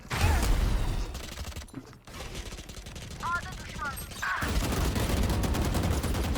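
Gunfire in the video game Valorant crackles in dense bursts, with a quick rattling spray at the start and more sustained firing toward the end, close and loud, mixed with mechanical clicks and a Turkish player's voice.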